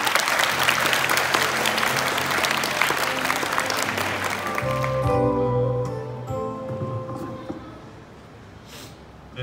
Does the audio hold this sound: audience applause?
yes